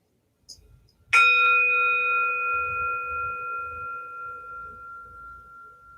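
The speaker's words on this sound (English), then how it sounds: "Let's start with the bell." A meditation bell is struck once after a faint tap, then rings out loud and clear with a long, steady tone that slowly fades across several seconds, alone without talk.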